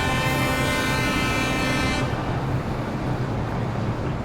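A subway train horn sounds in the World of Subways video game, a loud sustained blare lasting about two seconds over the constant rumble of the moving train, which carries on alone afterwards.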